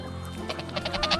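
Geese being fed garden treats honk repeatedly in a quick series of nasal calls that grow louder toward the end, close by, with no talking.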